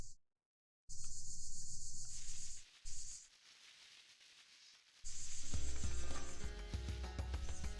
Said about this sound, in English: It's definitely picking up those cicadas.